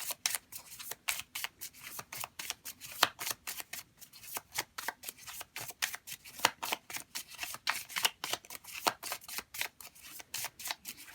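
A deck of oracle cards is shuffled by hand, producing a long run of rapid, crisp riffling flicks in a fast, uneven rhythm, close and fairly quiet, with no voice.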